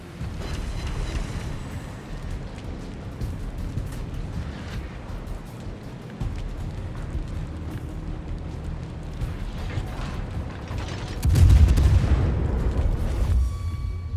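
Naval guns on a warship in World of Warships boom in heavy, rumbling salvos under steady low battle noise, with a big deep blast late in the sequence.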